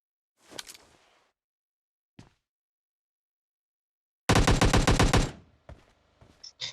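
Gunfire in the video game PUBG Lite: a couple of isolated shots, then a loud rapid automatic burst lasting about a second, followed by a few scattered fainter shots.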